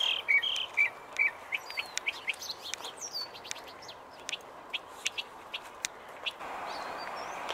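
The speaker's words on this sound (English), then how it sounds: "Mockingbird." A mockingbird sings in a park: a busy run of varied chirps and whistled phrases, repeated at an irregular rhythm over steady outdoor background noise, fairly near and clear.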